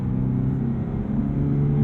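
A 2022 Toyota GR86 engine drones steadily and loudly under throttle, a continuous low rumble with a slight rise in pitch over a short stretch, and no talking.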